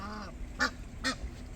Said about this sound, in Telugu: ఇక్కడ చూడండి, ఒక డక్